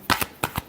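Tarot cards are shuffled in a few quick, crisp riffling bursts close by, four short snaps in under a second with no voice over them.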